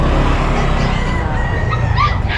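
Dogs at an outdoor pet market in Bocaue, heard as a loud, busy mix of yips and whimpers with occasional barks over steady crowd bustle, close and continuous.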